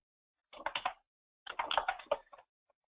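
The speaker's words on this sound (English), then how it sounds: "It's kind of hard to type and talk at the same time." Quick typing on a computer keyboard at a desk, two short bursts of close, crisp key clicks separated by a pause, in an otherwise quiet room.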